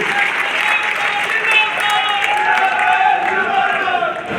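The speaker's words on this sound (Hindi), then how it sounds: "ऐसे हमारे डॉक्टर अशोक तंवर जी, जोरदार तालियों से इनका स्वागत करिए" A large crowd at an outdoor political rally in Tohana claps loudly to welcome Dr. Ashok Tanwar, the dense applause swelling and holding steady with a faint amplified voice and tonal hum beneath it.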